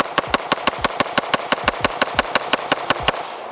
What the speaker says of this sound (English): I'm about to mag dump my FN 5-7.